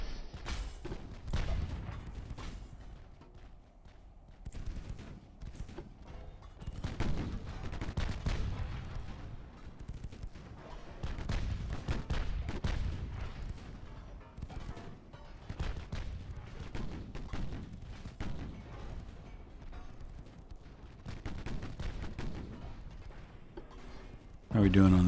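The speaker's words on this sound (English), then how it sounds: "So we'll turn on the guns and hit him with those" Warship guns fire in the Ultimate Admiral: Dreadnoughts naval game, with repeated booming salvos and rumbling impacts spread across a continuous battle din, and a person talks over parts of it.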